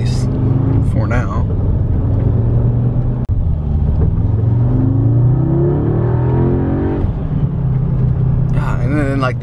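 An Audi 8Y S3 engine revs and rumbles through S-mode downshifts, a loud, steady drone with rising and falling pitch sweeps, while a person talks over it.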